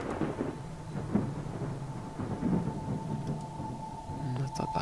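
Thunder rumbles through a horror puzzle game set in a hall and library, a low continuous rolling growl with a brief sharper crack near the end, heard alone without talk.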